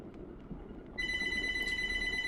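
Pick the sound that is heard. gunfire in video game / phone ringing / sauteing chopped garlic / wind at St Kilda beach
phone ringing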